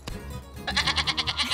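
A lamb out on the open range gives a rapid, wavering bleat, loud and close, after a brief lower sound at the start.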